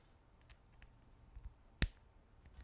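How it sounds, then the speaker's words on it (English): A reversible micro USB cable plug pushed into its port, giving one sharp, close click as it seats past the notch, alone against a quiet background. "it will make this little clicking noise that you know it's in"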